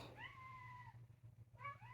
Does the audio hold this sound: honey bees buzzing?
no